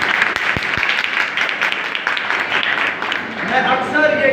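Loud, close applause fills a Friday evening church service in Pakistan, a thick and sustained clatter of many hands, with voices rising over it near the end.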